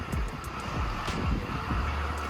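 Machinery lifting a used Kia Sportage with its tires removed into a shipping container for export, a steady loud low mechanical rumble and drone with faint clanks above it, no talking.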